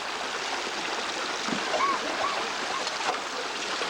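Water pouring and splashing off a gold pan, with a steady flowing rush like a nearby stream and a few soft splatters, close and moderately loud.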